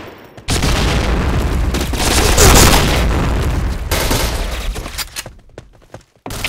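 Grenade blast in the shooter game Crackdown, a sustained roaring burst of explosions and rapid gunfire that swells loud and then breaks into scattered pops before cutting out.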